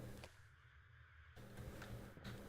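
Crows caw in a couple of clear, moderately distant calls over a quiet, hushed outdoor background.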